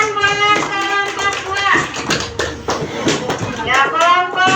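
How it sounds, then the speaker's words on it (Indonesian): Schoolchildren in an elementary classroom clap for a group, a busy burst of applause mixed with children's voices and chatter throughout. "Ya, tepuk tangan buat kelompok"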